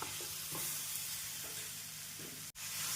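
Close, steady sizzling from chopped tomatoes frying with ginger and garlic in a pan, with soft stirring scrapes and a brief dropout near the end.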